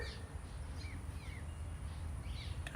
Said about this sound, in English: What kind of bird makes that noise?